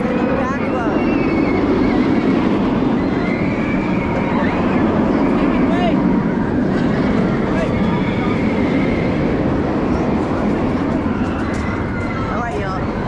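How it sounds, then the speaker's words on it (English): A B&M inverted roller coaster, Batman the Ride at Six Flags St Louis, roars and rumbles along its track at night while riders shout and talk over the steady, loud ride noise. "B&M inverted coaster. First coaster of the night, actually."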